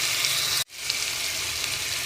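Tomato and green chili puree poured into a chicken curry in the pan, giving a steady close sizzle with a brief hiss cut-off midway before the frying resumes evenly.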